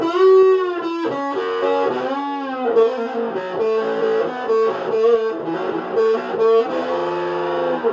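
Distorted electric guitar through an Orange Crush Mini 3W amp playing a run of sustained single notes with bends, loud and gritty, no voices.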